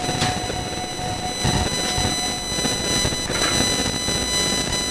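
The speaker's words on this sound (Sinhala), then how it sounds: "ඔන්න ට්‍රේන් එක ආවා" An ordinary train pulls into Icheon station in Korea with a steady rumbling roar and faint high electrical tones, the sound fairly loud and continuous with no talking.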